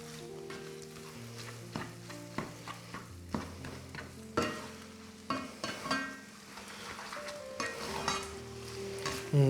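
Pad thai ingredients with sauce and dried shrimp stir-frying in a hot pan: continuous sizzling broken by repeated clattering, scraping tosses of a spatula, close and busy, with no talking.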